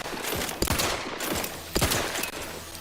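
Rapid gunfire from the video game The Outer Worlds 2 aimed at a large Crabble creature, loud bursts of overlapping shots with two especially sharp volleys standing out, dense and continuous with no talk.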